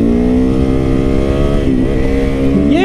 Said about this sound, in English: let me bust a wheelie up in here